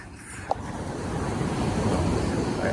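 Ocean surf at Bogmalo Beach in South Goa keeps up a steady washing roar that swells slightly toward the end, with wind buffeting the microphone and one brief click early on.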